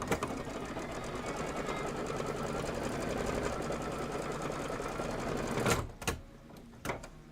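A sewing machine stitches steadily through fabric for a placement stitch on a table topper, a fast continuous mechanical whir that stops abruptly, followed by a couple of brief handling clicks.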